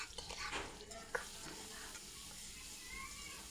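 Chopped onion hitting hot oil in a pan for a pangas fish curry, giving a soft steady sizzle with a brief clatter near the start, fairly quiet and without speech.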